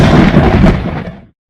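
A loud crack and rumble of thunder in a daytime storm, a dense broadband roar that holds strong and then fades out over about a second, with no voices.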